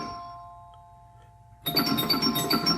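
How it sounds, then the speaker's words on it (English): Chime from an Eight Ball Plus pinball machine running BSOS, bursting in loudly after a quiet stretch with bright, ringing bell tones layered over busy mechanical play noise. "you hear a change in the chime"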